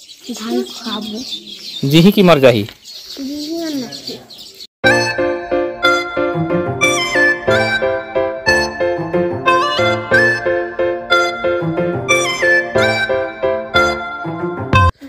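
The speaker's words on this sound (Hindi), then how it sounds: "ये देख सकते हैं नारियल पेड़ में जो है चिड़िया बड़े चहचहा रहे हैं" Birds chirp and twitter in a coconut tree near a padded nest, with several close, busy calls for about five seconds and a brief voice, before loud music takes over.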